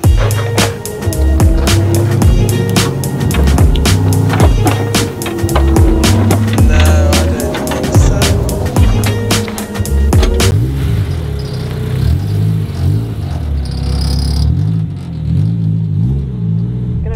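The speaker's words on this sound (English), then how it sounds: "go out for a little test run to see if I can slam on the brakes, get some hard left and right turns" A Honda S2000 on a test run at speed, its engine droning steadily under a loud rumble with rattling clicks and road noise throughout, then easing slightly near the end.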